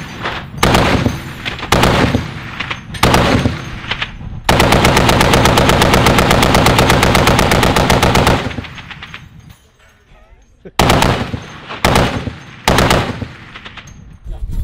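A 20 millimeter cannon on a military tank fires several loud, close bursts: short separate volleys, then one long sustained rattling burst, then more short bursts after a brief lull.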